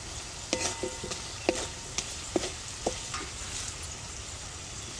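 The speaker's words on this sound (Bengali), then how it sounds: "আলুটা দিয়ে একটু ভালো করে কষাতে হবে" Potato pieces stir-fried with spice paste in oil for a rui fish curry, a steady sizzle broken by several sharp spatula knocks and scrapes against the pan, close by.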